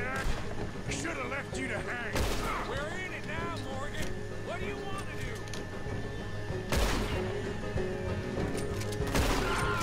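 Gunfire from a shootout in the video game Red Dead Redemption 2, with repeated sharp shots and a few heavy booms over a busy mix of game sounds, while a voice talks throughout.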